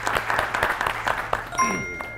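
Studio audience at a holiday game show breaks into brief applause, a short burst of clapping that fades quickly as a bright ding tone sounds near the end.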